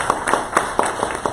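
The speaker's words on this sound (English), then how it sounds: "So let's give them a round of applause" At a small business pitch meeting, a sparse audience claps for first-time presenters, a handful of distinct, evenly spaced claps sounding close and fairly loud.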